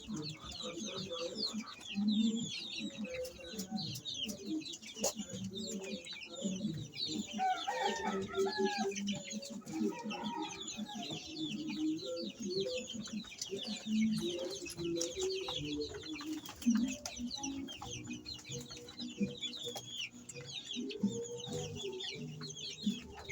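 Five-week-old chickens on a farm cluck and chatter steadily throughout, a dense flock of overlapping calls with occasional louder squawks close to the recorder.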